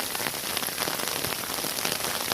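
Rain pours steadily onto an umbrella or shelter overhead at a botanical garden, a dense, even patter that stays close and constant with no talking.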